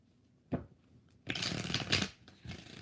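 Tarot cards being shuffled in a few quick, rustling bursts: a short flick, then a longer riffle and a final brief shuffle, close and clear with no talking.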